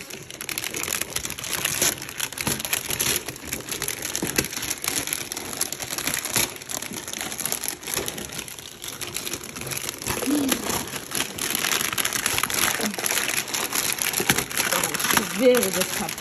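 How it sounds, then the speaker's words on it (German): Heavy paper crinkles and rustles continuously as it is handled up close, with soft crackling throughout and faint talk in the background. "ein schweres Papier"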